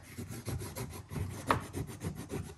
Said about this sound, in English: Rub that down. Make sure it's all kind of stuck down.